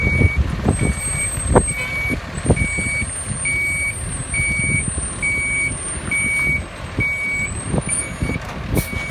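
A fire engine, Engine 358, backs into a parking lot, its reversing alarm beeping in an even, regular rhythm over a low idling truck engine and some rattles and knocks.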